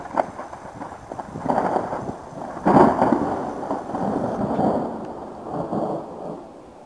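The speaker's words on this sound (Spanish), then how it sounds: "Tenemos tormenta de granizo," Heavy hail pounding outdoors in dense, rumbling bursts, loud and continuous with a sharp crack partway through, no voices.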